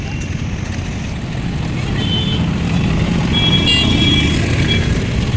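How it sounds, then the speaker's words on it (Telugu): A busy street near a temple in Tirupati gives a steady roar of passing cars and motorbikes, with faint scattered horn toots and beeps in the distance. "చాలా ట్రాఫిక్ ఉందేమో"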